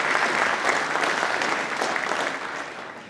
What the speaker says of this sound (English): Let's hear it again for Frank and Brian.